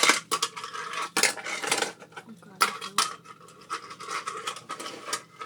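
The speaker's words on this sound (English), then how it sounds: "with the grip tape on the boards, you can simulate skating. You can do all kind of tricks." A finger skateboard with grip tape doing flips, grinds and rail slides on a fingerboard skatepark, giving bursts of clattering, scraping wood-and-plastic impacts in quick irregular runs, with a voice talking faintly underneath.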